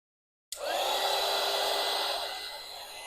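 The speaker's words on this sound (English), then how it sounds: "I'm going to use the dryer on this" A hair dryer blows steadily on a beginner watercolour summer painting of a watermelon, drink and bee, a close, continuous airy whoosh that starts abruptly and holds for about three seconds before easing slightly.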